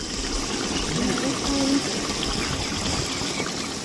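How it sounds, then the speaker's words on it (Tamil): Country chicken semi-gravy simmering in a pan, a soft continuous bubbling and hiss of thick gravy boiling up, steady and close, with a faint brief tone in the middle. "அந்த கிரேவி அப்படியே மேலே கொதித்து வந்துகிட்டே இருக்குது."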